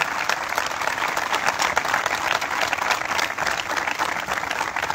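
A crowd at a memorial five-a-side football tournament at a sports village claps continuously, dense and steady applause throughout, fairly loud with no clear talking over it.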